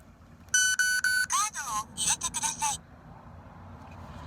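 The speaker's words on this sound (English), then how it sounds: "when you go click, click, like that, it beeps" A device emits a series of electronic beeps and tones in quick succession, some chirping and melodic, then falls quiet.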